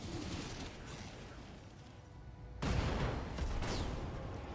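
Mech weapons in Battletech 3062 open fire with a sudden loud blast partway through, followed by a sustained rumbling barrage over steady mechanical background noise.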